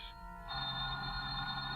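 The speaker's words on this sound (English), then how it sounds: "Just then your telephone rings." A telephone bell rings steadily and fairly loud in a 1949 radio drama, a continuous electric trill with no voices over it.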